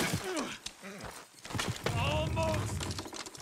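Horse hooves in Red Dead Redemption 2 clip-clop in an uneven rhythm close by, mixed with voices talking over them.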